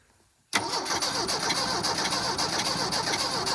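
A Mercury Capri turbo engine, abandoned for 23 years, cranks loudly after a brief silence, a dense, continuous churning that holds steady for about three seconds without catching.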